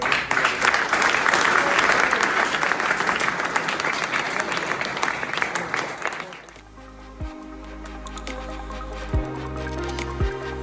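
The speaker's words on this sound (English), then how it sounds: "So I think you all deserve a fantastic round of applause." Student challenge event audience giving a round of applause, a dense, loud wash of clapping for about six seconds that then stops abruptly, leaving a quieter room.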